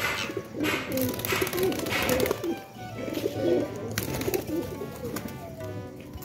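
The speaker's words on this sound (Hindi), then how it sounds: "अभी ये सारे कबूतर आ गए हैं बाहर।" Several pigeons and doves coo softly and repeatedly at close range during outdoor feeding time, their low burbling calls overlapping with faint background chirps and ambient noise.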